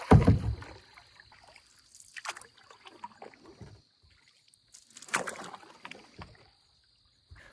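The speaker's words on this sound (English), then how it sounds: "I'm gonna paddle upstream now" Solo canoeist paddling upstream on a quiet river: soft, close paddle dips and water swishes come in irregular strokes, with a faint steady insect-like tone above and stillness between the strokes.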